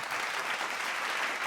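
Audience applause at a road safety campaign event in Kanpur, a dense, even wash of clapping from a crowd, steady and moderately distant throughout the short stretch.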